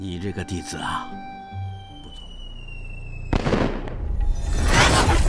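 Whistling pops and crackling bursts of a firecracker go off, followed by a loud sustained crackle and fizz, mixed with dramatic background sounds and a voice.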